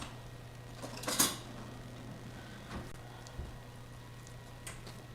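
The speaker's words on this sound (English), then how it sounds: "I'm going to get a spoon out and spread that instead of using my hands" A spoon scrapes and spreads cooked rice across a baking dish, with one distinct scrape early on, then a few faint scuffs and taps over a steady low hum.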